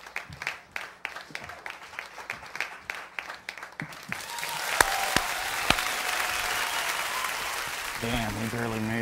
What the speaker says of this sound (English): Come on, clap one time